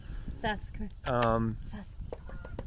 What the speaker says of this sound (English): As we have some more geese going across, and Sita's never heard geese.